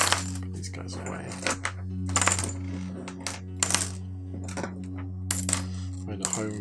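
Metal bolts dropped one by one into a container, each landing as a sharp metallic clink or rattle in an irregular sequence over a low steady hum.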